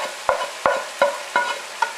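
Onions and peppers fry on top of browning venison in a pan for Texas-style chili, with five sharp stirring scrapes at a steady rhythm over a soft sizzle, close by and without talk.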